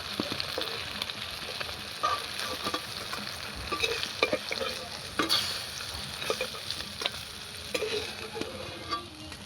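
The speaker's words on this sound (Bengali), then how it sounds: "এই মাছটা ভাজা হয়ে গেছে" Rui fish sizzling steadily in hot oil in a pan, a dense continuous crackle with scattered sharper pops and occasional scraping as the pieces are turned, fairly close and alone.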